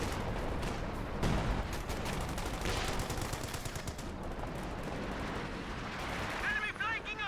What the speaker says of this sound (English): And here's some artillery.